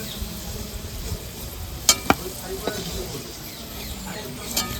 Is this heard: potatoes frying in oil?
yes